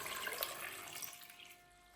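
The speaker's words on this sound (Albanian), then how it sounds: "shtoj ujë derisa mbullohet nivelli i tyre" Water running into a cooking pot over sliced potatoes, a steady splashing pour at close range that tapers off near the end, with no voices.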